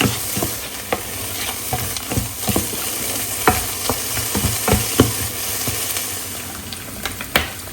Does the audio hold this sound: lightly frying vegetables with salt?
yes